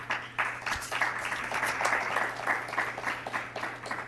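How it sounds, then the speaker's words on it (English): A podcast studio audience breaks into steady applause in honour of someone's late mother, a full, close wash of clapping that rises sharply and continues for several seconds. "Can everybody clap for Joe's mom"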